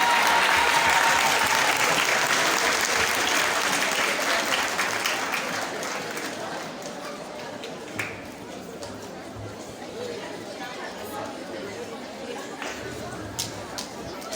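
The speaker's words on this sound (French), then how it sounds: "Sous vos applaudissements encore pour Maman Ndeye Bey." A crowd at an awards ceremony for dictation and mathematics contest winners applauds loudly, with dense clapping at first that slowly thins into scattered claps and crowd chatter. Occasional sharp clicks stand out.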